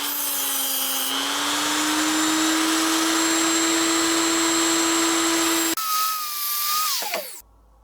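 A tungsten electrode grinder whines in a steady high motor tone as an electrode is ground. Near the end the pitch shifts and the sound cuts off abruptly. Close and loud, with no talking.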